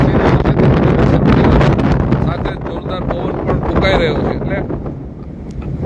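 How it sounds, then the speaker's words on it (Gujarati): Strong wind buffets the microphone at Samatsar lake in Halvad during unseasonal rain, a loud continuous rumble with a person speaking over it. "વરસાદ સાથે જોરદાર પવન પણ ફૂંકાઈ રહ્યો છે."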